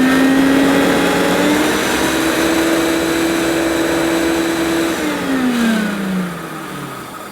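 A Hoover U2602 Turbopower Plus vacuum cleaner runs steadily during a hose suction test, a loud close motor whine that holds constant, then drops in pitch and winds down near the end, heard alone with no talking.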